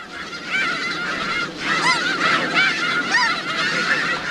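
A flock of snow geese honks continuously, many overlapping nasal calls in a dense, loud chorus that fills the whole stretch without pause.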